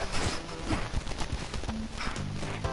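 Steady clip-clopping hoofbeats of a horse walking in the video game Ultimate Chicken Horse, a continuous rhythmic patter over a dense background of game ambient sound.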